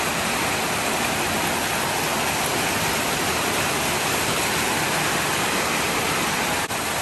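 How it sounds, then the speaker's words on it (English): Heavy rain pours down in a steady, loud, dense hiss on a rural property in Thailand, unbroken for the whole stretch with no voices. "Just started chucking it down."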